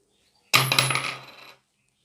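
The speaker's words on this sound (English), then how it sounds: "Toss 2 coins once." Two coins are tossed and land together in a sharp metallic clatter that rings briefly and fades within about a second, heard alone in quiet surroundings.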